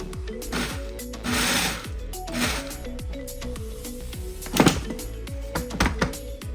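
A food processor blade crushing chips into breadcrumbs while clogging, with short bursts of whirring motor and grinding clatter, repeated pulses and stops, and knocks between them, close and fairly loud.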